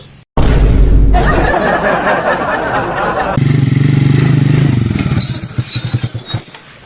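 A motorcycle engine roars loudly up close, starting with a sharp bang and a steady rumble, then settling into a lower idle with faint chatter behind it.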